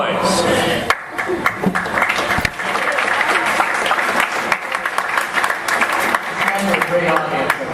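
A rowing association spring banquet audience breaks into loud, sustained applause, many hands clapping in a dense, continuous wash that swells and dips slightly across the room.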